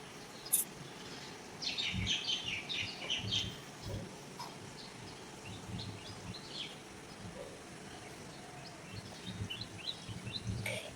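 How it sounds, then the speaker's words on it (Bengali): Early-morning birds chirp and call outdoors, with bright, scattered tweets rising over quiet background hum and insect-like noise, the calls coming in short bursts, fairly faint and somewhat distant, with no one speaking. "খুব ভালো লাগে আমার এই আওয়াজগুলো শুনে, পাখির আওয়াজগুলো"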